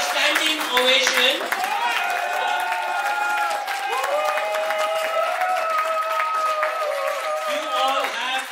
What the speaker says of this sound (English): So let's give each other a standing ovation.